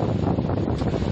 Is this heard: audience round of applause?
no